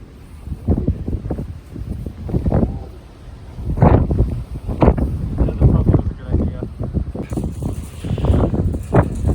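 Strong wind gusting across the summit of Longs Peak, buffeting the microphone in rough, uneven rumbling bursts throughout, with a voice talking in spots.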